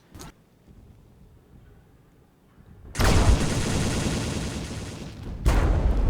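A Nectodon unit in the Mindustry video game fires its cannon: a loud, dense, rumbling barrage of shots follows a quiet stretch, runs for a couple of seconds, then a second burst hits.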